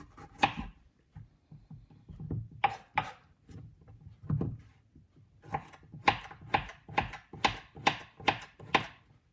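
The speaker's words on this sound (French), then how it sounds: "La courgette, nous allons couper." A knife chops courgette on a wooden board for a spinach and fresh whiting dish, in irregular taps that settle into a steady run of crisp, close cuts toward the end, with no talking.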